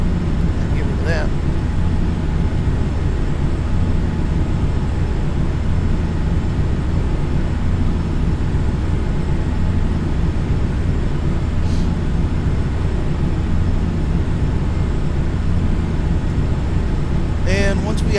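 Steady, loud broadband roar inside a CRJ regional jet cabin as the airplane pitches up and climbs toward 34,000 feet, a continuous low rumble with no breaks and a few faint clicks.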